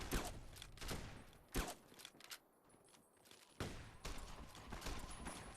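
Gunfire in Fallout New Vegas during a Goodsprings fight against the Powder Gangers, with several sharp, loud shots in bursts and quieter gaps between them.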